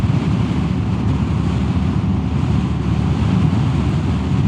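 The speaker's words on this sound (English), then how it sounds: "strong wind from the front" Strong headwind buffeting the microphone while riding a Royal Enfield Classic 350 uphill, a steady loud low roar of wind rush over the engine, continuous and unbroken throughout.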